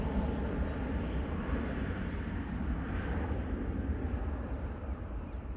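A KLM airliner arriving from Birmingham goes around at Schiphol, a steady distant engine rumble heavy in the low end, holding evenly for a few seconds before easing slightly.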